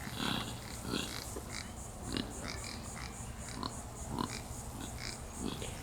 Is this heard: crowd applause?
no